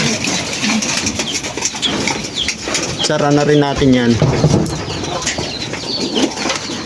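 Pigeons coo nearby with a burst of flapping wings, while a person talks over the birds.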